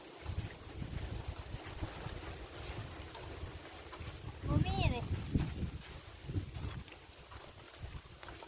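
Steady wind buffets the microphone across open rice fields in the Thai countryside, a continuous low rumble throughout, with a person's voice briefly rising over it near the middle.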